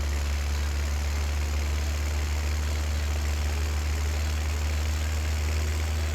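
Tractor engine idling in the farming video game Farming Simulator 17, a steady low rumbling drone that holds constant throughout with no change in pitch, with faint broadband noise above it and no talking.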